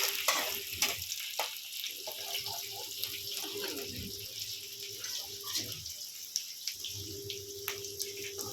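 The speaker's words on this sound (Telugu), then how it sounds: "ఉల్లిపాయ వేగుతూ ఉండాలి" Onion sizzles in a pan alongside running tap water and clattering, with scraping and stirring noises throughout a busy kitchen scene.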